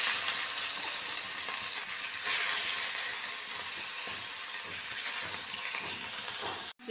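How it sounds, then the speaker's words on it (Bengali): Prawns being lightly fried in hot oil in a kadai, giving a loud, continuous close-up sizzle with a brief surge partway through, ending abruptly. "প্রথমে আমি চিংড়ি মাছটাকে হালকা করে ভেজে নেব।"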